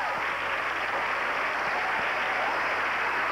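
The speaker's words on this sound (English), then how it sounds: "Why was Matt's mom applauding?" Audience applause at a live stage magic show with a sub trunk illusion, steady dense clapping filling the room throughout without a break.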